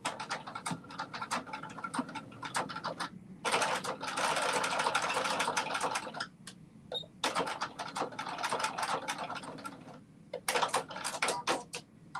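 A sewing machine stitches a buttonhole in quick bursts of rapid needle chatter, separated by short pauses, loud and close with no talking.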